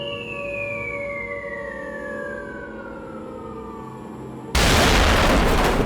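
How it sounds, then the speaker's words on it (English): A descending whistle falls steadily for several seconds over a low rumble, then a bomb explodes with a sudden, loud, sustained blast that fills the end. "The bombs are getting closer, 15."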